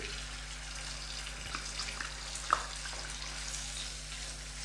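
Green chili paste and onions fry in a pan with a soft, steady sizzle under a low constant hum, a small clink of stirring near the middle.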